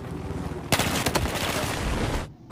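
Gunfire in the video game Battlefield 4 on PS4, a sudden loud burst of rapid shots that sustains for over a second before cutting off, over faint background game noise.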